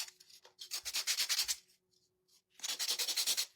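Wooden block from Dollar Tree sanded along its edges by hand, giving two long bursts of close, rhythmic rasping strokes separated by a short pause.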